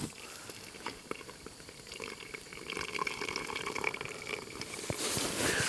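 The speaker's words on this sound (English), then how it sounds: "So I'm going to melt this snow and then make another hot water bottle." Snow melting into water on a camping stove during winter snow camping in a tent, giving a steady low bubbling, hissing water sound that grows slightly louder near the end, with no talking.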